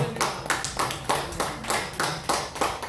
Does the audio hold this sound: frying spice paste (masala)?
no